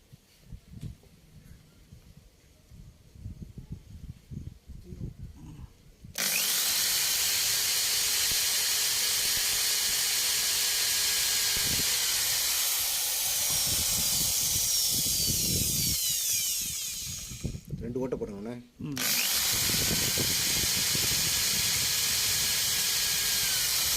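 A loud, continuous whirring hiss from a small drill boring a hole in a coconut-shell spoon runs for long stretches, briefly cutting out before starting again, after quiet handling noises.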